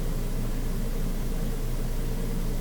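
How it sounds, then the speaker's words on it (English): A steady, dense sizzling hiss of fair-style food frying in hot peanut oil, continuous and even throughout with no voices. "peanut oil stays pretty clean when you're frying like this"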